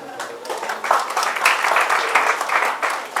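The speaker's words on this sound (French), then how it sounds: "Il faut l'applaudir." Audience applause at an entrepreneurship event ceremony in French, a steady wash of many hands clapping for about three seconds, fairly loud and dense, with some voices mixed in.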